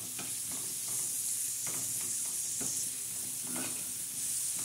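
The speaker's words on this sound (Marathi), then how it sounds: "चांगला तडका याला द्यायचं, चांगलं शिजवून द्यायचा कांदा आणि टमाटर" Onion and tomato with salt sizzle in a pan as a tempering, a constant close hiss with rhythmic stirring scrapes every half second or so, no talking.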